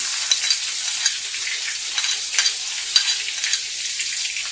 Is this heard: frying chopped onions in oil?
yes